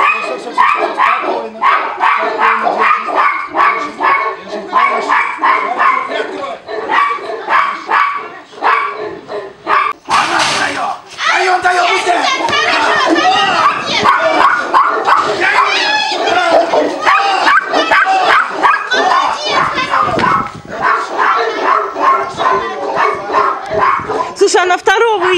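A Tibetan Mastiff barks and yips repeatedly during a protection dog test, close and loud, over people talking in Russian, with excited bursts becoming denser partway through.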